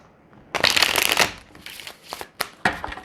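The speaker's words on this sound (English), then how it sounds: "We're gonna cut the deck and shuffle this way" A tarot card deck is cut and riffle-shuffled up close, giving a long crisp burst of flicking cards followed by several shorter shuffles and taps, with no one talking.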